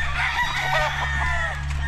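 Gamefowl stags and bull stags crowing on a breeding farm in San Miguel, Bulacan, several overlapping crows near and far, loud and clear with no talk.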